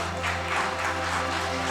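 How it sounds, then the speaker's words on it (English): An audience at a national manufacturing and MSME awards ceremony claps steadily in a dense, even patter, moderately distant and continuous over a low room hum. "Big round of applause, please."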